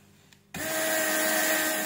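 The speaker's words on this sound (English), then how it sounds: "Rework station blower is working nicely. What is blower? That is hot air gun." A hot air gun blower on a WR3M rework station switches on abruptly and runs with a steady, loud whooshing hiss and a faint whine, with no talking.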